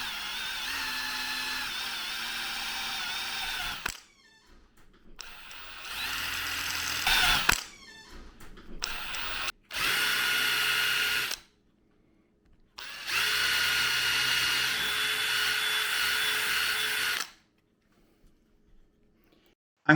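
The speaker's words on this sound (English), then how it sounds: "Now I'm going to change it out for a bigger bit." A power drill with a larger bit enlarges a hole, running in several loud whirring bursts of a few seconds each, with pauses and handling clatter between runs.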